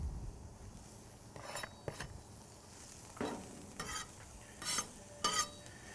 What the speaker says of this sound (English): And so what I'm going to do is just keep these onions moving continuously